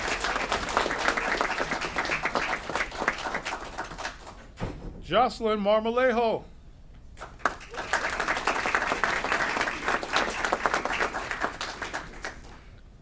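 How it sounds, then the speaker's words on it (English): Dense applause fills a city Committee of the Whole meeting in Aurora, a steady crowd clapping that pauses while a person speaks in the middle, then resumes just as strongly. "Let's give her a round of applause."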